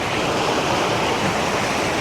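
A flowing stream in a forest in the Pauri Garhwal hills rushes steadily, a loud, close, continuous wash of water with no talking.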